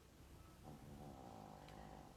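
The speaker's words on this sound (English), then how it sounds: "There's a chihuahua snoring in the background." Faint, steady low snoring from a chihuahua, soft rhythmic rasping under a hissy background, no talking.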